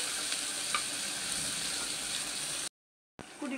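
Onion with ginger garlic paste fries and is stirred in a pan with a steady, close sizzle. A brief silent gap breaks it, then the frying resumes.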